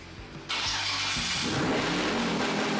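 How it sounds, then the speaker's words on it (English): A budget twin turbo LS engine starting for the first time: a cranking chug, then a loud, rough roar that catches and keeps running steadily up close. "We did get it fired up for the first time and it ran pretty good"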